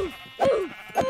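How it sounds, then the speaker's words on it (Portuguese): Sheep bleat in the video game Minecraft, two or three short wavering calls close together, clear and near. "Tem um rebanho de ovelha aqui, moleque."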